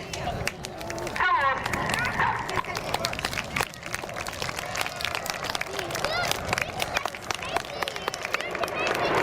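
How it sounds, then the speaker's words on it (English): An outdoor crowd at the Southport Air Show claps for the Red Arrows, rapid scattered clapping spread across the clip beneath ongoing commentary. "Let's have a huge round of applause for Phoenix."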